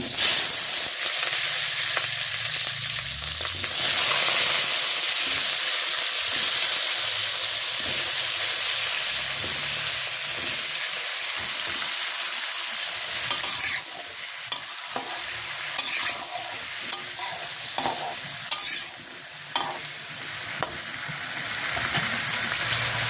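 Raw pumpkin pieces fry in hot oil with cumin seeds and two bay leaves in a village kitchen, giving a steady close sizzle and hiss, with stirring scrapes and clatters growing more frequent toward the end.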